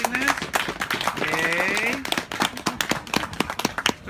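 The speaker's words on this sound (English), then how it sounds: "let's give a quick round of applause for Catalina for setting this up and arranging this" A small audience at a Django course session claps in a short round of applause, dense scattered hand claps continuing for several seconds, with a voice speaking briefly over it.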